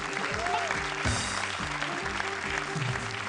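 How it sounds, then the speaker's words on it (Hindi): Loud studio audience applause at a comedy show, dense steady clapping that fills the whole short stretch, with a voice speaking over it. "हमारी 8 जोड़ियों के लिए जोरदार तालियां"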